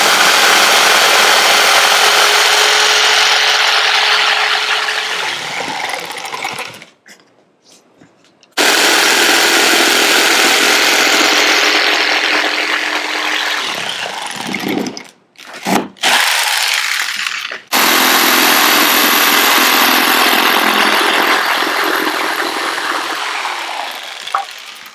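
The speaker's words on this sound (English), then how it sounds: "we use our jigsaw to cut out our first shape" A jigsaw buzzes loudly and continuously as it cuts shapes out of wood for a DIY nine-hole barricade, pausing briefly twice before resuming, close to the microphone.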